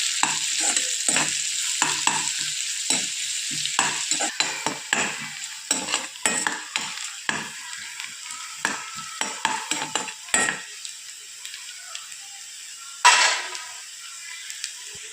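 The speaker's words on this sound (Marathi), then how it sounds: "बारीक चिरलेला कांदा आता छान आपल्याला कांद्याला गुलाबी रंग येईपर्यंत छान आपल्याला परतून घ्यायचा आहे" Finely chopped onion stir-fried in a pan for moong dal pithla, a soft sizzle under repeated close clacks and scrapes of a spatula stirring at an uneven rhythm, ending with one louder hiss, no voices.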